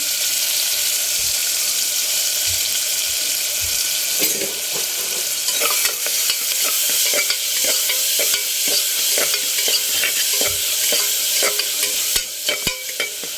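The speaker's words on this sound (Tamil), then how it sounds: "ஒரு தக்காளி ஒரு வெங்காயம் ஒரு கருவேப்பில் கொஞ்சோண்டு மட்டும் போட்டு நல்லா வணக்கிக்கலாம்" Tomato, onion and curry leaves sauté in a pan with a steady sizzle, while a spoon stirs and scrapes in repeated taps and clatters, louder in the second half, with no voices.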